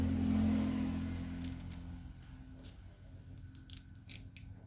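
Scissors snipping through Thai fermented pork sausage (naem), a handful of sharp, brief cuts close by after a low rumbling start that fades away.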